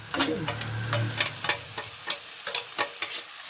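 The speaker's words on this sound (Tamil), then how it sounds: "இப்போ பாருங்கள், நான் மஞ்சளை சேர்த்து வதக்க ஆரம்பிச்சிட்டேன்." Fresh turmeric sizzles in a hot pan with green chilli and ginger paste for a pickle, with a steady frying hiss under repeated sharp scrapes and knocks of a spatula stirring close by.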